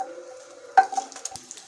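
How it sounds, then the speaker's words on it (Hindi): Garlic is dropped into a small amount of hot oil in a pan for Mumbai-style vada pav, giving a sudden burst of sizzling and a few soft stirring scrapes after a quiet hum. "तो सबसे पहले तेल हमारा गर्म हो गया, और सबसे पहले हमको ये लहसुन को डालना है इसमें।"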